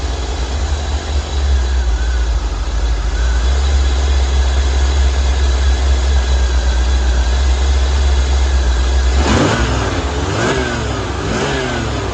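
A 1985 Chevrolet Corvette C4 engine idles loudly and steadily with a deep low rumble, then the idle is bumped up near the end, its tone rising and wavering as the revs climb.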